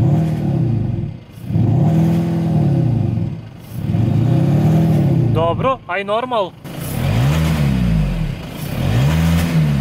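A VW Golf 7 GTD diesel engine in sport mode with active sound revs repeatedly from inside the car, rising and falling in regular surges; a person briefly speaks between revs.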